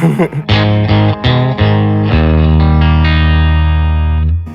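An electric guitar through a Blackstar St James amplifier set to 50 watts rings out loud, first in several quick struck chords, then one big sustained chord with a thick, slightly distorted tone.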